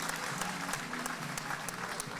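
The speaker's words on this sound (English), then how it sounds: "I give him a round of applause." Crowd at a high school wrestling dual meet on senior night applauds a 285-pound wrestler, steady clapping filling the gym for the whole stretch, with a commentator's voice faintly underneath.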